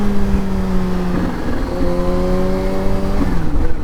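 Kawasaki Z H2 motorcycle engine revving hard during a wheelie, a loud, close, sustained droning note with steady harmonic tones that hold, drop and shift through gear changes across the whole stretch.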